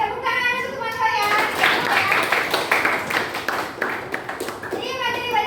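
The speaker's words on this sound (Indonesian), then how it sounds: "tepuk tangan untuk teman saya" Children in a classroom clap for a classmate during a lesson, a burst of rapid hand claps rising after a teacher's voice and fading as talking resumes, with kids' voices mixed in.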